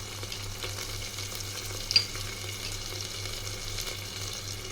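Spices tempered in two spoons of oil in a pan, with ginger-garlic paste added, give a soft, steady sizzle throughout, with one brief clink of a stirring spoon partway through.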